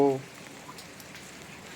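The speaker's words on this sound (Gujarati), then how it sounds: "વરસાદ પાછો ચાલુ થઈ ગયો છે" Light rain falling as a slow, drizzly shower of drops, a faint even hiss through the short stretch, with a brief voice-like tone right at the start.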